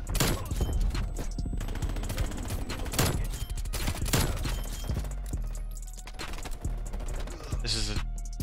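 Magnum pistol shots in Call of Duty Cold War, several sharp separated cracks spread through the stretch, with keyboard clatter and game sounds in between.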